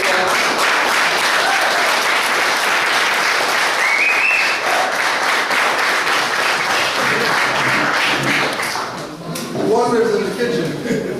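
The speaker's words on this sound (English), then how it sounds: "Could you please give a round of applause for our principals catering?" Loud, sustained audience applause at a Drew Ali Day 2016 gathering of Canaanland Moors, dense steady clapping for the catering staff, thinning near the end as a voice and a few cheers come through.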